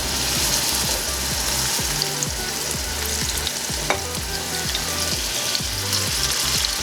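Salmon fillet laid face down into a pan of warm oil, giving a steady, close frying sizzle throughout with rhythmic low scraping and clicking beneath it.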